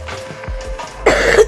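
A single close, harsh cough with throat clearing from a sick person, loud and abrupt against a quiet background.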